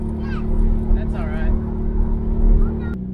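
An old Volkswagen engine drones at a steady low pitch while driving, with people talking over the rumble.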